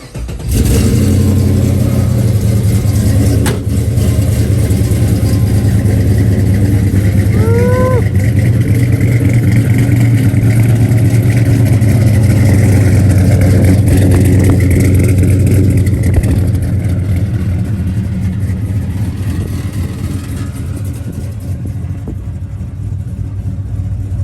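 A 1970 Chevrolet Chevelle with a fuel-injected LS3 V8 idles loudly and steadily up close, a deep continuous rumble with a brief rise in revs around the middle, then settling back down.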